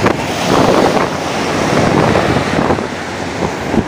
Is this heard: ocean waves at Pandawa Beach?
yes